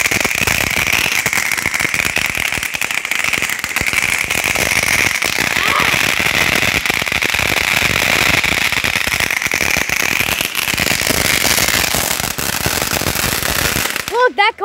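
A backyard firework goes off at night beside a road, a long, loud, continuous crackling and hissing burn that runs for many seconds before breaking off abruptly at the end.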